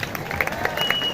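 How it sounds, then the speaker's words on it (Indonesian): An audience at a comedy show at Pura Samuantiga claps in a dense, steady patter for a moment, with crowd murmur mixed in. "Tepuk tangan buat semuanya."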